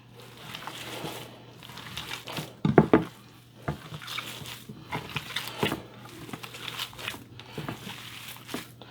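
Ground meat being mixed with egg and breadcrumbs by hand, giving soft wet squishing and light clicking sounds with a couple of sharper knocks, close up, over a steady low hum.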